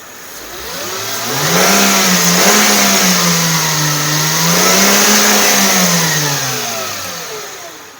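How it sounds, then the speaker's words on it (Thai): A 2000 Mercedes-Benz W210 E240 Elegance engine revs up twice from idle, holding a loud, smooth whine before easing back down; close and steady with no talking. "เดี๋ยวจะลองเร่งเครื่องให้ฟังสักนิดนึงนะครับ"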